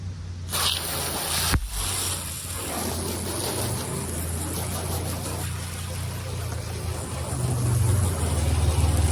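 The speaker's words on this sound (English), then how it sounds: "Decide to get the hose and spray it off." Continuous broad hiss of water spraying from a garden hose onto a rusted Mustang II roof, steady for several seconds, with a low engine-like rumble underneath and a brief thump early on.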